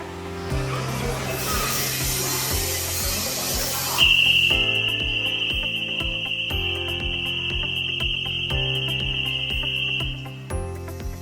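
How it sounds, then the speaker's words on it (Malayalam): An indoor intrusion alarm set off by a PIR motion sensor sounds a loud, steady, high-pitched tone for about six seconds, with softer rhythmic electronic pulses before and during it. "ഇതേപോലെ നിങ്ങൾക്ക് വേണമെങ്കിൽ ഇൻഡോർ അലാം അടിപ്പിക്കാം"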